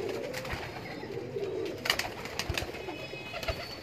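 Mian Sahib breeder pigeons coo steadily in a loft, with soft overlapping murmurs and scattered clicks and flutters of wings nearby.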